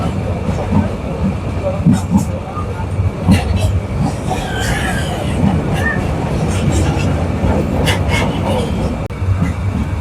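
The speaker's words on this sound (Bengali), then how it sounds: "সো কুমিল্লা রেলওয়ে স্টেশনের দিকে ঢুকতেছে ট্রেন" A passenger train running into Comilla railway station in Bangladesh, heard from on board as a steady loud rumble with rhythmic wheel clacks and brief squeals, with some voices in the background.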